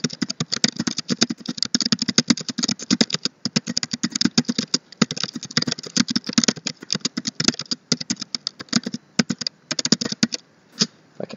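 Close-up clatter of a computer keyboard, rapid uneven keystrokes in bursts with brief pauses between.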